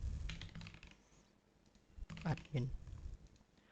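Quick bursts of key clicks as a captcha code is typed on a computer keyboard, with a pause between runs of typing, heard under a speaking voice.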